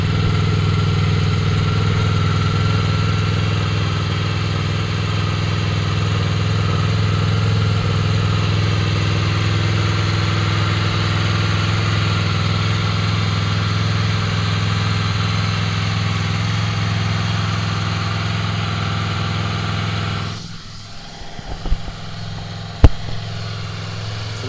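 A Honda VFR 800 X Crossrunner motorcycle idles steadily and close after a cold start, a smooth even hum for about twenty seconds before the engine cuts off, leaving near-silence with a few clicks.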